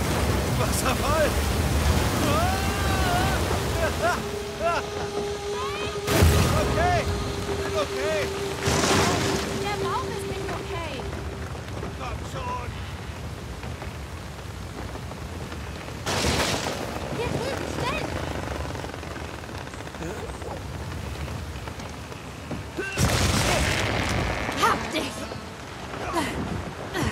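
Rushing river current sweeping toward a waterfall in Uncharted 4, a loud, steady broadband roar of churning water that runs the whole time, with bursts of splashing and people shouting over it.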